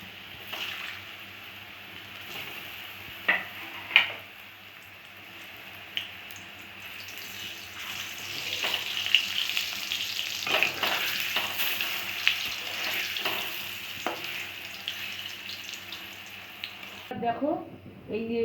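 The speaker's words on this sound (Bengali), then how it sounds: "এবার আমি কড়াইতে সেই গোল্লাগুলো 5-6টা করে একসাথে নিয়ে ভাজছি" Balls of green banana kofta fry in a wok, five or six at a time, giving a steady bubbling sizzle with occasional sharper pops and scrapes, heard close at moderate level.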